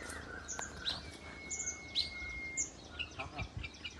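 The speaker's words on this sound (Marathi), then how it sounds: "इथं इतक्या प्रकारचे पक्षी आहेत" Small birds chirp outdoors with scattered short tweets and one sustained whistle over a faint, steady background hiss, moderately distant and fairly quiet.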